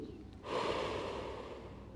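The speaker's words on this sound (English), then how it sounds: "When you inhale, fill the air in the chest and exhale from your mouth." A single long, forceful breath rushes out through the mouth in a yoga breathing exercise, close and breathy, starting abruptly and fading slowly over more than a second.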